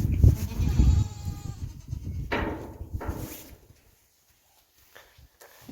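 Pregnant goats being let out to pasture give a few close bleats over shuffling and rustling, then the sound falls almost silent.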